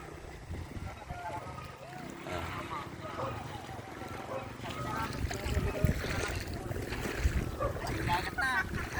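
A motorboat engine drones over a flooded rice field in Pangasinan with wind buffeting the microphone, and people talk nearby over the noise.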